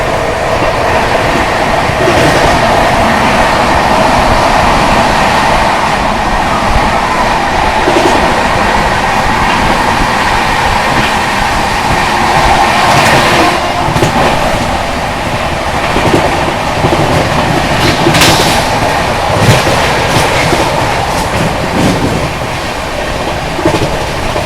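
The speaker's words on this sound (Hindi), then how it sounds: "ओवरटेक कर रहे हैं यहाँ पे हम ऊंचाहार एक्सप्रेस को फ्लैट 130 पर" A Banaras Superfast Express runs at speed while overtaking the Unchahar Express, heard from on board as a loud, continuous roar of wheels and rushing air with intermittent clacks and rattles throughout.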